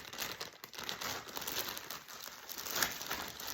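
Soft crinkling and rustling of a plastic packet from an AliExpress parcel being unpacked, a continuous crackly texture with small irregular bursts, fairly quiet and close.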